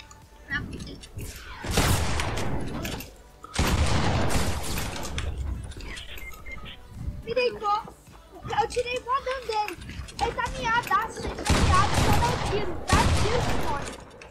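Loud bursts of rapid gunfire and booms from a shooting video game in squad play, coming in heavy volleys between stretches of excited talking from a player.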